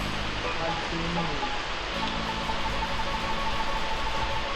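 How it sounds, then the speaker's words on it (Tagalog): Steady patter of rain on a surface at a resort, with a low electrical hum underneath, continuous and fairly loud, no talking heard. "Ulan guys."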